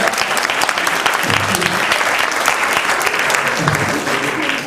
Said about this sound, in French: Et vous pouvez aussi applaudir en avance tous les artistes qui vont passer ce soir.